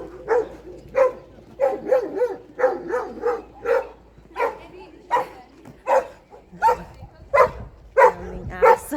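Several dogs bark in a village near Beauvais, with repeated sharp barks and yips in an irregular, fairly steady chain at close to middle distance, some overlapping.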